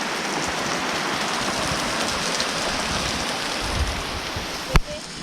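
Water fountain splashing from a hole in a pipe at a homestay in Munnar, a steady close hiss of falling spray with one sharper knock near the end.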